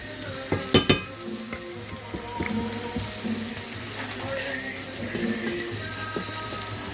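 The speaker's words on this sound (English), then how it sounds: "Now we're going to take brown sugar. A whack of brown sugar. Get that mixed in with the butter." Brown sugar stirred into melted butter in a hot pan, a soft continuous sizzle with spoon clicks and scraping near the start, close and steady with no talk.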